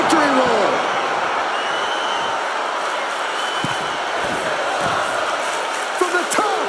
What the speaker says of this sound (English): The sound of this crowd is deafening, and he's asking for more